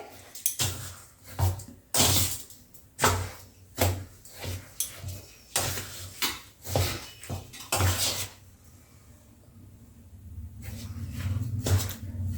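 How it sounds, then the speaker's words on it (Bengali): Spoon stirring dry ingredients for malpua batter in a bowl, rhythmic repeated scraping and clinking strokes, close and fairly loud, with a quieter pause before the knocking resumes. "এবার একটা চামচের সাহায্যে শুকনো উপকরণগুলোকে একদম ভালো করে মিশিয়ে নেব আগে"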